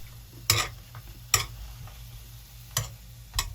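Chicken tenders simmer and sizzle softly in poured sauce in a pan, with a utensil tapping sharply against it about once a second.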